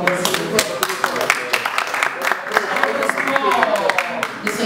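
An audience in a Brussels parliament hall claps in scattered, uneven bursts, fairly close, with voices talking over the applause.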